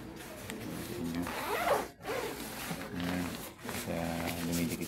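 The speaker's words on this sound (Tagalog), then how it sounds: "zipper niya is parang waterproof style din" A waterproof-style zipper on a rain riding jacket is pulled in several short rasping strokes, close and clear, with a speaking voice in the background.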